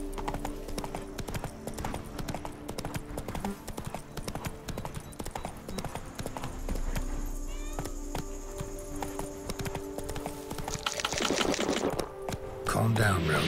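Hooves of Roach, the horse in The Witcher 3, clip-clop at a steady, close rhythm throughout, with a harsher burst of activity near the end.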